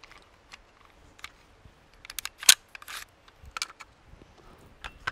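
A Sig P320 pistol slide lock lever is worked close up, giving a scatter of small sharp metallic clicks and snaps with one louder click in the middle.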